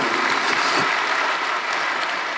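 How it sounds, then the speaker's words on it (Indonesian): A church congregation claps during a sermon, a dense, loud, steady wash of applause filling the whole moment with no voices over it. "Berikan tepuk tangan kita untuk Tuhan kita."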